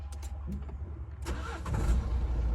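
A Nissan X-Trail is started with its push button: a short crank, then the engine catches and settles into a low idle, heard close by.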